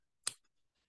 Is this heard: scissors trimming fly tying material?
yes